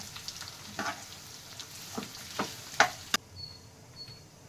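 Four onions frying in oil in a pan, a soft steady sizzle with occasional scraping clicks and stirring taps, fairly quiet and close, with no talking.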